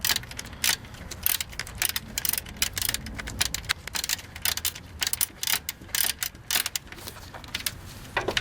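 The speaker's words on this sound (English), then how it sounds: "That's why use a ratchet" Ratchet clicking in quick irregular bursts while tightening a bolt on a 2001 Dodge Caravan 3.3L V6 radiator, close up, with mechanical rattles between strokes.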